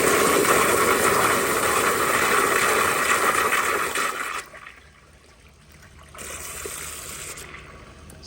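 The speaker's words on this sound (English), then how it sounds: "give you all 2 more flushes" A Kohler Dexter urinal flushing powerfully, a loud steady rush of water for about four seconds that drops to a quiet trickle, then swells into a moderate refill hiss near the end.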